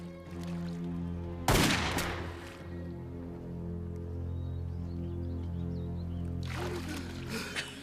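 A sheriff fires his gun: one sharp, loud shot rings out and decays, then a second burst of gunfire follows several seconds later over a low background hum.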